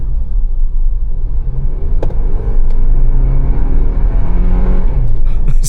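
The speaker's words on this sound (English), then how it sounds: "So just barely throttle, and the vehicle wants to go." Sixth-generation Toyota 4Runner pulling away under light throttle in race mode, a low steady engine rumble and road drone that rises slightly as it accelerates, with brief faint voice moments.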